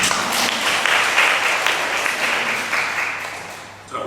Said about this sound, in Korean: 이분도 박수 한번 쳐주세요.